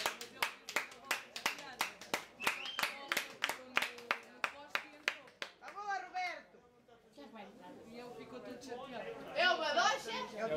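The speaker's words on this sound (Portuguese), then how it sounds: "Anda, bate palmas, Tiago." Steady hand claps, about a dozen in a row, then children's excited chatter and voices rising near the end.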